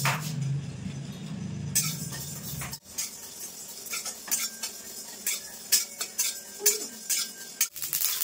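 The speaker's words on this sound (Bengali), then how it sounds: "এই কড়াইয়ের ভিতর শুকনো মশলাগুলো প্রথমে ভেজে নেব।" Dry spices being roasted and stirred in a kadai for mango pickle oil, with repeated metallic clinks and scrapes of a spatula against the pan, close and fairly quiet, no talking.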